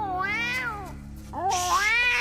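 A cat meows in an animated adventure set in ancient Egypt. Two drawn-out, close meows sound clearly with a short gap between them, over a quiet background hum.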